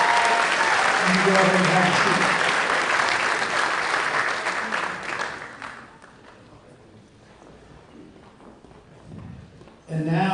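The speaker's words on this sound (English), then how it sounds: "Give them one more round of applause." Audience applause at an awards ceremony for school coaches and athletes, loud and sustained for about five seconds before fading, with a speaker's voice over it and a brief burst of clapping at the end.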